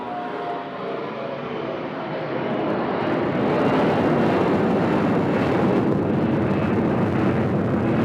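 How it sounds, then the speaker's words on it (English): A Southwest airliner takes off from a runway at Nashville International Airport, its jet engines swelling into a loud, continuous roar that builds and holds steady. "So we got a Southwest taking off here."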